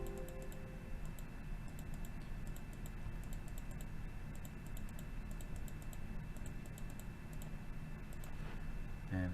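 Steady typing on a computer keyboard while entering values into Civil 3D design software, a quiet run of light, even key clicks from close by over a low hum.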